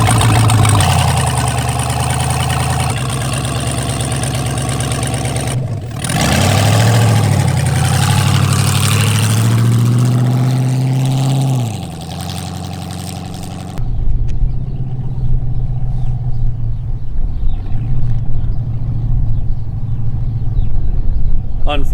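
An LS V8 engine in a home-built formula kart runs during a test drive, idling and revving with rising and falling pitch, then cutting to a rougher, quieter rumble with clatter; a voice talks over it.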